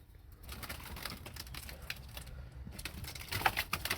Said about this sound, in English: Come on, bird, get out of there.